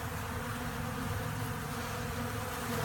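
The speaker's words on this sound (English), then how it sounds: "you can just hear the buzzing" Dense, steady buzzing of many honeybees robbing a hive close by, a continuous droning hum with no pauses and no voices.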